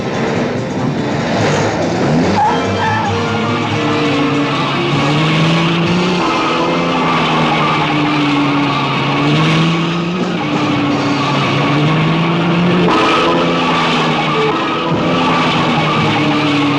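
A car is driven hard on London roads, its engine running steadily while the tyres skid and squeal again and again. The sound is loud and continuous, with no talking.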